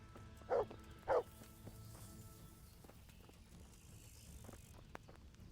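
A dog in the medieval video game Kingdom Come: Deliverance gives two quick moderate barks close together, followed by faint footsteps and quiet outdoor ambience with insects chirping.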